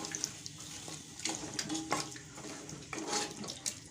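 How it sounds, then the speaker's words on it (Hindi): Half a glass of water pours into chicken palak cooking in a pot, a close, fairly quiet splashing and gurgling stream with a few small clinks, no talking. "इसके अंदर हम डालेंगे आधा गिलास पानी"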